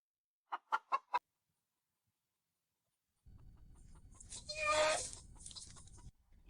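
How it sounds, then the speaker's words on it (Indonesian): Chickens at a villa cluck in a quick run of four short notes, then after a pause a longer, louder squawking cluck rises over a soft background rustle. "Di villa sebagus ini, kenapa banyak ayam banget sih?"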